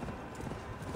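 Horse hooves in a video game, a steady clip-clop of soft repeated beats at a walking pace, fairly quiet against a low background rumble.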